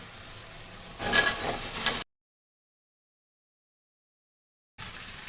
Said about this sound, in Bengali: আমি এবার পুরো সবজিগুলো ঢেলে দেবো